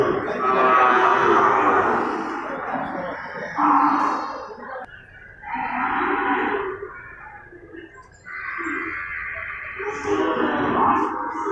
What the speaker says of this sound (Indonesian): Ini para sapi-sapi indukan dan bakalan serta pedetannya nih Gam ya